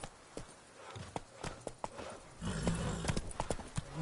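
The horse Roach runs in the Witcher 3 video game, hooves clip-clopping in a quickening rhythm that grows louder and denser in the second half, with a low rumble beneath.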